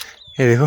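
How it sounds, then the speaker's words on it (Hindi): A short, harsh parrot squawk rings out loudly and up close, right after a quick spoken remark. "ये तोता की आवाज़ सुनाई दे रही है।"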